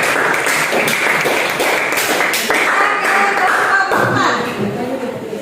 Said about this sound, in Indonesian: Berikan aplaus lagi untuk kelompok 3